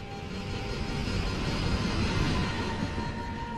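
A McDonnell Douglas DC-10 airliner, Flight 191 from Chicago in 1979, dives with a steady, broad roar of jet engines and rushing air, loud and continuous with no break for the whole stretch.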